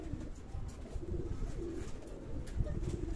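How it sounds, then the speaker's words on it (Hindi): Pigeons being fed grain coo softly and repeatedly close by, low throaty calls rising and falling over a busy rustling background, with no one speaking. "कबूतरों को मैंने दाना डाला"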